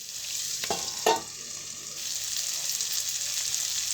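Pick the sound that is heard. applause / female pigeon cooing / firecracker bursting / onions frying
onions frying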